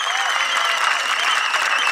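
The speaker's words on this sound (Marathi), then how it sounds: "करायची जरा टाळ्या, करा जरा टाळ्या पैलवानसाठी।" A crowd at a kusti wrestling match claps and cheers for the wrestlers in a loud, dense, sustained burst of applause, close and continuous throughout.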